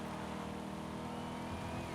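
Electric Corvette driving in Forza Horizon 5, a steady whirring drive hum with tonal bands and road rumble, held at an even level throughout the short stretch.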